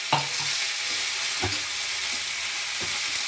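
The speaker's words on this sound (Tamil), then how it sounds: "புதினா சேர்த்துக்கிறேன், கொத்தமல்லி, எல்லாத்தையுமே நம்ம நல்லா வதக்கிக்கணும்" Mint and coriander sautéing in a pan for tomato chutney make a continuous bright sizzle, with three or four spatula scrapes spaced over it, near and clear with no voices.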